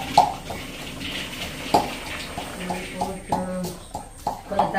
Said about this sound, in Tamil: கொஞ்சம் தண்ணியை ஊற்றி